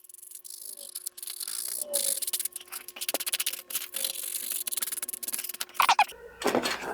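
A model rocket fin pod is rubbed by hand against sandpaper, using just a finger instead of a sanding tee, producing short raspy scratching strokes in an uneven rhythm, close up, ending in a few louder knocks and scrapes.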